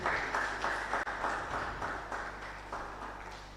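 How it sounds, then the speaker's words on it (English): Audience at a physiology conference applauding in a hall, moderate clapping that fades gradually over a few seconds, heard a little distantly, with no talking. "A round of applause"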